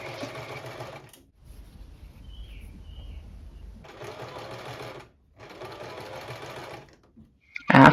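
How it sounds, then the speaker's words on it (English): A sewing machine stitches front and back darts in fabric in two long loud runs of steady whirring, separated by short pauses with faint background noise, ending on a sharp click. "So the first thing we'll be sewing is the dart, the front dart and the back dart."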